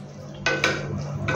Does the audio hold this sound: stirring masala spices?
yes